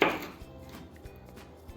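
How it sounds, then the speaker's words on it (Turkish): A knife chopping an onion into wedges on a cutting board for oven-baked chicken drumsticks: a few crisp, close strikes, the first the loudest, then lighter cuts. "Soğanı da elma dilimi şeklinde keseceğim."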